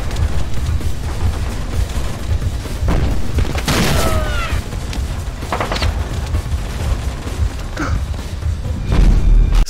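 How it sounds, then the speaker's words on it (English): Gameplay from Splinter Cell: Double Agent on Xbox 360 bursts with booming explosions and scattered gunfire, heavy thuds and crackling shots rising and falling across a busy battle scene. "It feels more like a long set piece with all the fighting and explosions surrounding Sam as he navigates around."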